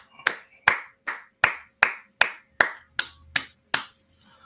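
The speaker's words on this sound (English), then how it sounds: "let's clap it up" A small group in a class claps in slow unison, ten sharp evenly spaced claps about half a second apart, with quiet room tone between them.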